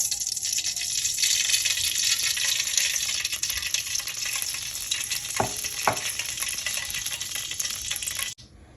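Hot oil sizzles and hisses steadily in a pan while preparing chicken khichuri with mung dal, a close, continuous frying sound with a couple of brief clinks partway through.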